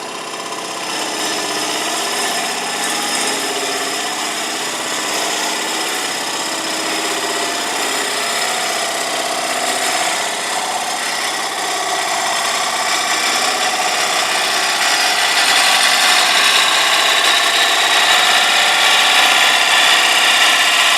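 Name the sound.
wood lathe turning a coarse wood bowl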